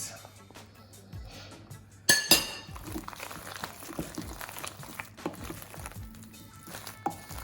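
Chopped spring onions and salt are stirred together in a dish, starting with a sharp clink of utensil on the dish and followed by soft, irregular scraping and tapping.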